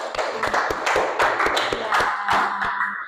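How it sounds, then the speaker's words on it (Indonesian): A classroom group clapping for a student named Ica, a short burst of distinct, fairly close handclaps in uneven rhythm, with faint voices in the background. "kasih tepuk tangan buat Ica"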